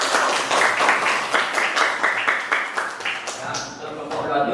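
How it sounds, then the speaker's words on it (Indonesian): A group claps together in a school classroom lesson, rhythmic clapping with a regular beat that gradually loosens and fades, with voices mixed in. "Sebelumnya kita berikan tepuk tangan dulu buat kelompok Uluwatu."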